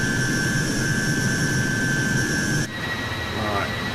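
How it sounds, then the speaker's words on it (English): Jet engines roar as a steady loud hum with high whining tones in Microsoft Flight Simulator over the Mozambique coastline, the level dropping abruptly partway through. "Are my engine sounds too loud?"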